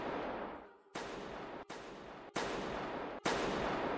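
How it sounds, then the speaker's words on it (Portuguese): Gunshots in the Squid Game video game's Red Light, Green Light round: four loud, abrupt shots about a second apart, each cutting in sharply and ringing out. "Cada tiro desse aí é um eliminado"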